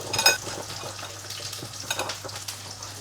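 Paneer cubes tossed into a pan with spiced oil containing turmeric and chili powder, sizzling and frying up close with stirring scrapes and a few clinks of the utensil.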